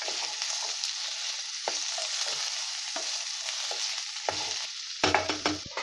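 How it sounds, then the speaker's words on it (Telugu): Sweet corn kernels and tomato pieces fry in a pan with potato pieces, giving off a steady close sizzle with occasional stirring scrapes. A clatter of utensil against pan comes near the end. "స్వీట్ కార్న్ గింజలు, టమాటో ముక్కలు వేసేసుకొని వీటన్నిటిని 5-6 మినిట్స్ ఫ్రై చేసుకోవాలి"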